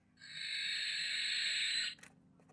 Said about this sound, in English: That is supposed to be a blackbird.